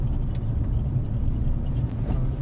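A car driving at night on the Mumbai–Goa highway (NH66) gives a steady, low road-and-engine rumble from inside the cabin, continuous and even throughout.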